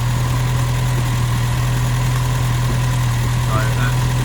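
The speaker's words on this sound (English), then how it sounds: "So you hear the engine speed starts to slightly pick up." A Hillman car engine idles steadily and close, a constant low rumble with a strong droning hum that rises very slightly in speed.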